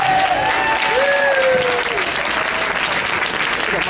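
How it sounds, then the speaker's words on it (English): A round of applause from an audience at a retirement speech for two honored women, dense continuous clapping that stays loud and even, with a faint tonal whine briefly audible beneath it. "let's give them a really nice round of applause"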